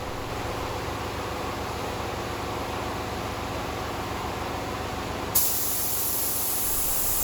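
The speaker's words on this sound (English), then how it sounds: "I first apply 3 coats of black base coat, followed by 4 coats of clear coat lacquer." A spray gun applies black base coat onto Rolls-Royce Corniche parts, a steady, close, continuous hiss that runs unbroken and brightens sharply near the end, with no voices.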